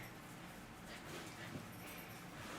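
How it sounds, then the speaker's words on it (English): A dog whimpers softly in a room, a faint high whine sitting low under steady background noise, with a slight louder moment partway through. "That's a good doggy."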